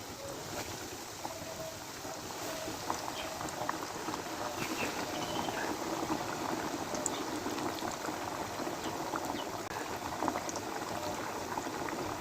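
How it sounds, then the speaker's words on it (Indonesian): Chicken pieces fully submerged in hot oil deep-fry with a steady, dense sizzling and bubbling crackle, fairly quiet and continuous throughout, with no talking. "Setelah minyaknya panas sahabat, kita langsung goreng saja ya."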